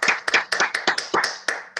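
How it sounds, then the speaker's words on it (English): An audience at an awards ceremony claps in about a dozen distinct, sharp beats, loud and close, with no voices over them. "Big round of applause for JPL."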